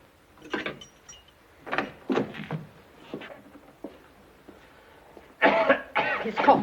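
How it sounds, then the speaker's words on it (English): A man coughs in several harsh, separate bursts, with quieter pauses between them, in a tense Old West indoor scene. The coughing turns louder and rougher near the end. "His cough is worse."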